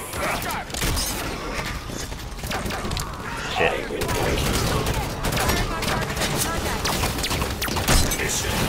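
Sustained gunfire from the Halo 5 video game: dense, continuous automatic bursts and impacts that stay loud throughout, layered with explosions and battle effects.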